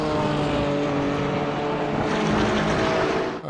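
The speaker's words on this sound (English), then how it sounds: "That's a lovely sounding car." A BMW M4 GT4 race car in iRacing at Road America gives a loud, steady engine roar at sustained high revs, holding its pitch at full volume throughout with a brief dip at the very end.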